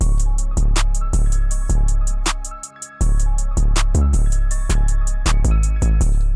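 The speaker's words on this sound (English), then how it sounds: "Of course, you can just have a hi-hat pattern that sounds like this." Crisp hi-hat ticks repeat in a steady, simple pattern over a deep kick and bass groove in FL Studio, briefly dropping out before resuming.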